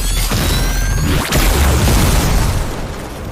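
A heavy booming explosion in the video game Marvel's Midnight Suns, a loud close burst with a whooshing rush and a rumbling tail that stays dense throughout.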